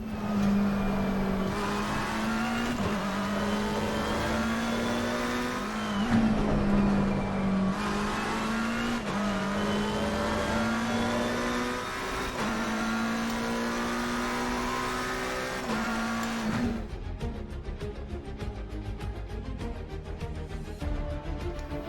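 A McLaren 720S GT3 race car accelerates hard on the Spa-Francorchamps circuit in Assetto Corsa Competizione. Its engine note climbs steadily through several upshifts, loud and continuous, then breaks off into a rougher, noisier stretch near the end.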